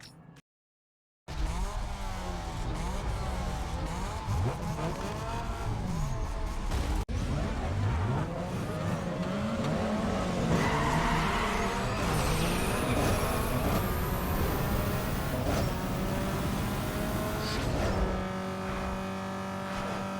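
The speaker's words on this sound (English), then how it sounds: "look at this car going!" A Ford Focus 2.0L I4 races in Need for Speed Underground 2, its engine revving continuously and rising through the gears with turbo whine, loud and sustained after a brief silent start.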